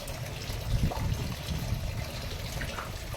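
Water from an aquaponics pump pours out of a PVC pipe as a steady, soft trickling splash, moderately close and unbroken, with no voices.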